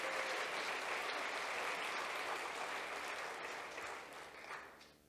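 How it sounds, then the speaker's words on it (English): An audience at a pageant applauds steadily, dense clapping that holds loud for several seconds before tapering off near the end. "How about a round of applause for those folks?"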